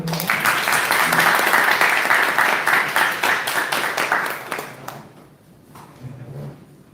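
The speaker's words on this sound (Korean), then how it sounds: "박수 부탁드립니다" A lecture audience at a talk concert for medical students and residents claps to welcome the speaker, dense steady applause for about five seconds before fading into room noise.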